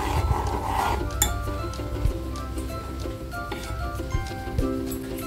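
A metal spoon clinks and taps against a pot as a spoonful of jaggery is stirred into hot tea in a kitchen, several light, bright clinks over a low background hum.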